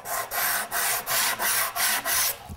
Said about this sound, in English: I use a sandpaper block on an old piece of countertop.